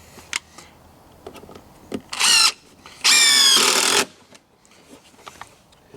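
A power drill drives a construction screw into wood on a tall wooden flyover build, two loud bursts of whirring motor, one short and one about a second long, between scattered clicks and handling knocks.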